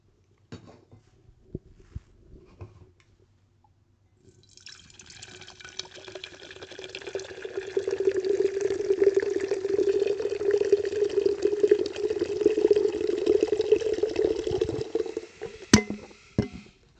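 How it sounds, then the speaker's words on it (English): Seagram Escapes Spiked WWE Rumble Punch malt beverage is poured into a glass in a long, steady stream that builds to a loud, fizzy gurgle before stopping abruptly. "So let's give this a pour."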